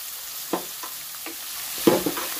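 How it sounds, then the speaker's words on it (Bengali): Chopped onion dropped into hot oil with a cumin tempering, a soft low sizzle broken by a few scraping stirs and one louder clatter near the end, close and without speech. "যেটা কুচিয়েছিলাম সেটাকে আমি ভালো করে তেলে ভেজে নেব"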